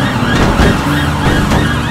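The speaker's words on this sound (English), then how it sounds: "Siren's on again." A police car siren in a chase video game, loud and continuous with a wailing pitch sweep over steady vehicle engine noise.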